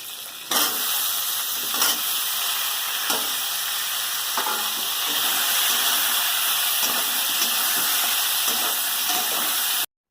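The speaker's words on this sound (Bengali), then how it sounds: "এবার কেটে রাখা আলু সজনা ডাঁটাগুলো এর মধ্যে দিয়ে ভেজে নেব" Loud, close sizzling of potatoes and drumstick pieces frying with bitter gourd in a pan, a continuous hiss broken by a few sharp stirring scrapes and clatters.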